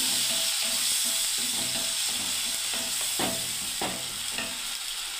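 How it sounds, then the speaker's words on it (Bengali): Onion, ginger and tomato paste fry in a pan while being stirred: a dense, continuous sizzle with a few scraping strokes of the spatula toward the end. "পেঁয়াজ পেস্ট, আদা পেস্ট দিয়ে দিচ্ছি। নাড়তে থাকছি এবার আমি।"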